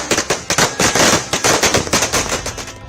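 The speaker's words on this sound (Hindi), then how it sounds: "पटाखों की आवाज इस जोश को दोगुना करती है" Diwali firecrackers explode in a rapid, loud string of close sharp bangs, crackling in quick irregular bursts for about three seconds before trailing off.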